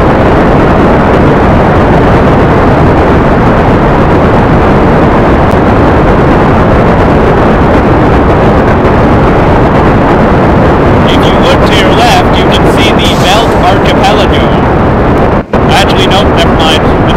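A loud, steady rocket engine roar in Kerbal Space Program fills the whole stretch after ignition, rumbling without a break, with a brief dropout near the end.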